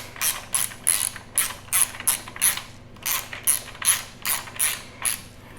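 A T30 Torx driver ratchets in a dozen rapid, evenly spaced bursts of clicking while fastening crash bars onto a Yamaha XT 1200 Super Tenere motorcycle, close and fairly quiet over a low steady hum.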